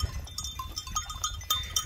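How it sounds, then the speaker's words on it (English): A goat caught and held by Masai villagers gives faint, scattered bleats and shuffling sounds over a low rumble of outdoor village noise, with no clear speech. "There, they caught the goat."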